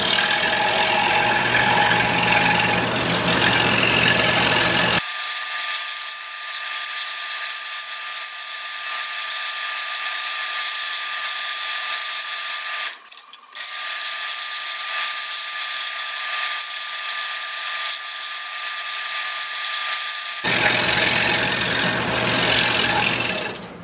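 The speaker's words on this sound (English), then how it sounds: "number 3 reverse tooth blade again. Should be fairly easy to do with this 1/4-inch plywood" A scroll saw fitted with a number 3 reverse tooth blade cuts 1/4-inch plywood. Its loud, steady mechanical whine runs continuously for over twenty seconds, with one brief dip partway through.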